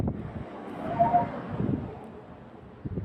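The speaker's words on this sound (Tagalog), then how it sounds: "Ang lamig doon. Ang lakas ng hangin." Gusty, cold, strong wind in New Zealand rushes and buffets, a low rumbling roar swelling and easing over a few seconds.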